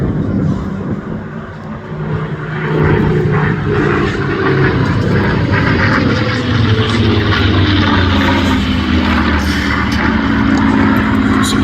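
A Spitfire PR XIX propeller aircraft flying at an air show, a loud sustained engine drone that swells after a couple of seconds and holds steady, with crowd and wind noise underneath.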